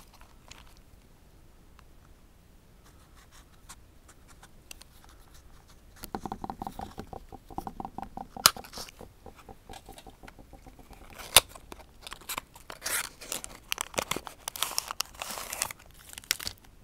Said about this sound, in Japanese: それでは開封していきます。